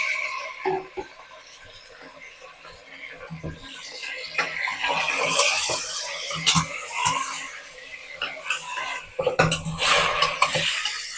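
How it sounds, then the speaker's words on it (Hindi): Bone-in mutton fries in a pot while a metal spoon clatters and scrapes against the sides in irregular bursts; a person talks over the cooking noise. "मटन को भी थोड़ा सा फ्राई कर लेते हैं।"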